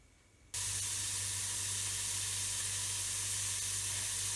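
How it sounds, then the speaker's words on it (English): Onion simmering in lard in a pot over low to medium heat on a stove, heard as a sudden onset of loud, steady sizzling hiss after a short quiet moment, continuing unbroken. "put a pot on the stove over low to medium heat and let the onion simmer there"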